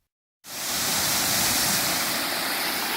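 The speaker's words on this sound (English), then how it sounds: "look at the falls here. Beautiful falls." A waterfall on the river beside the Franconia Brook Trail bursts in after a moment of silence, then roars as a steady, loud, close rush of falling water.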